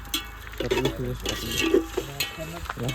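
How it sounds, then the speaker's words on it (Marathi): Mutton fat fries in oil with a steady sizzle and crackle, along with occasional stirring scrapes in the pan. "चरबी टाकली आता शिजत."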